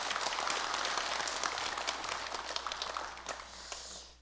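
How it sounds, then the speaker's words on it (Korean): A temple congregation at a Sunday Buddhist service claps together, moderately loud and slightly uneven, the individual claps thinning toward the end. "박수 한번 보내주시죠."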